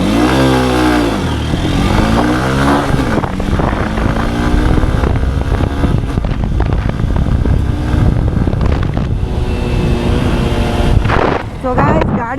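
A Honda Unicorn motorcycle accelerating hard through its gears, loud and close, its engine note climbing, dropping at each shift and climbing again, with heavy wind buffeting.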